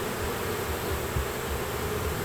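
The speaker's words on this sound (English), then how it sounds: "a lot of bees flying around the entrance" Honey bees fly around a busy hive entrance in September, giving a steady, close, continuous buzzing drone with no voices.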